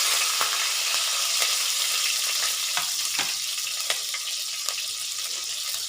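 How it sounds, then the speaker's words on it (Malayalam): Green chilies and ginger sizzle in hot oil inside a bell-metal uruli while a Kerala-style roasted-coconut chicken curry is cooked, a steady close hiss of frying broken by occasional sharp crackles and pops, with no talking. "അതിലേക്ക് നമ്മൾ പച്ചമുളകും ഇഞ്ചിയും ഇട്ട് കൊടുക്കാം."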